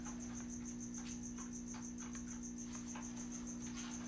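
A cricket chirps steadily and evenly in a quiet outdoor setting, its high, rapid trill repeating without pause over a soft, low background hum.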